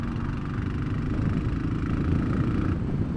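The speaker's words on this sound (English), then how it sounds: "Strangely, I kind of like the exhaust. Yes, it sounds like a spluttering machine gun." Royal Enfield Classic 500 motorcycle idling nearby, its exhaust giving a steady low, throbbing beat with a slightly uneven, spluttering edge, held at an even level throughout.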